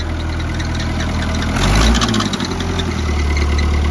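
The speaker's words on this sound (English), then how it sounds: "Oh, it's the alternator right there." An Oliver tractor engine idles loudly and steadily up close with a noisy alternator, a constant low rumble carrying a whining, rattling edge throughout.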